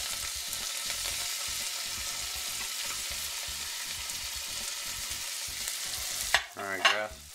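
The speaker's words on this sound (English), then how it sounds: "I've got our onions and celery leaves sauteed off pretty good" Onions and celery leaves sizzling as they sauté in a pot, a soft steady frying crackle with rhythmic stirring scrapes, then a few louder clanks of the utensil against the pot near the end.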